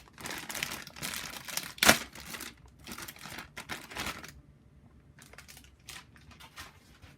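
Someone crinkles and tears open the plastic parts bag of a Tamiya Lunchbox Black Edition kit, making close, loud bursts of crackling plastic with short pauses between handlings.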